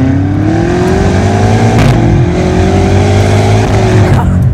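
A Stage 2 tuned BMW M5 with about 750 horsepower revs loudly and steadily up close, its exhaust note rising and dipping with brief cracks and pops between throttle changes, heard from inside the car without talk.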